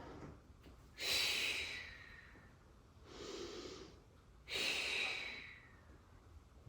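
Deep breathing during a postpartum chair workout, three slow close breaths: a sharp inhale, a softer exhale, then another sharp inhale, quiet and alone.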